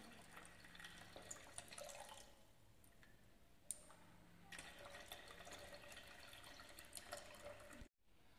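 A small Arduino-controlled automatic water supply pump at a school science-day exhibit lets water run in a faint, steady trickle and splash, with a few light drips, before it cuts off near the end.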